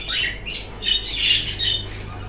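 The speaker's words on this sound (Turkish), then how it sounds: "Evet, sultan papağanımız." Cockatiel squawking close by in a home with other birds, a series of four or five harsh shrill calls in quick succession.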